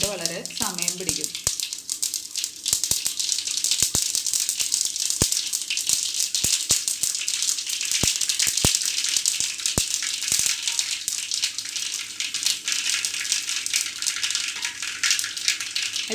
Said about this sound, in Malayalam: കുറച്ച് വെളിച്ചെണ്ണയാണെങ്കിൽ കടുക് വളരെ പെട്ടെന്ന് പൊട്ടിക്കിട്ടും.